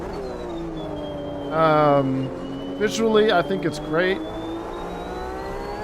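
Porsche RSR race car engine in Automobilista 2, a steady tonal drone with a high whine running throughout, staying in the background while someone talks over it.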